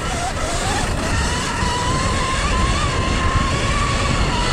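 A Sur Ron electric dirt bike is ridden fast on a trail with demanding uphills, its motor whine rising and falling over loud, constant wind and tyre rush, close up and with no voices.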